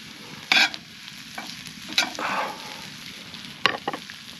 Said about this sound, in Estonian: Lähen sibula selgelt pruuniks